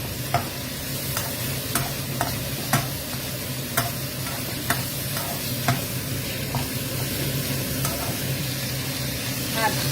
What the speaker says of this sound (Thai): ตับหมูลงไปผัดไฟแรงๆนะคะ ให้ไฟแรงๆ